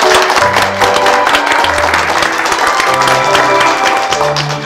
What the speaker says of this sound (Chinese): 我们现在用掌声欢迎新同学好不好？